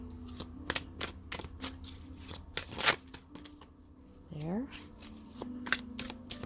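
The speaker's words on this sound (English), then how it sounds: "And then give it another shuffle real quick." A deck of tarot cards is shuffled in quick riffling bursts, close and crisp, with a person speaking briefly over the card noise.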